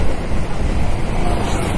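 Loud, steady wind buffets the microphone of a rider on a moving motorbike, a rough continuous roar with no voices.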